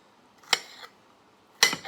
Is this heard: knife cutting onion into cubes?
yes